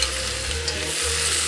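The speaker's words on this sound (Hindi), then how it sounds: "बटर मेल्ट हो गया और इसमें मैं चॉप किया हुआ अदरक, कैरेट और साथ में कटे हुए टमाटो ऐड कर देती हूँ" Chopped ginger, carrot and tomatoes sizzling in melted butter for homemade tomato soup, a brief, steady frying hiss over a low hum, close and fairly loud.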